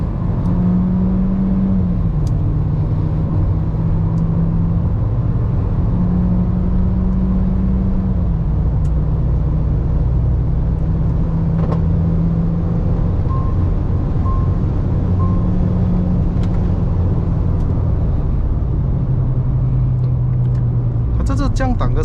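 A 2026 Proton S70 MC1 on a test drive at Sepang, its engine droning steadily inside the cabin as it accelerates, with pitch rising and dropping through gear shifts; a voice talks over it.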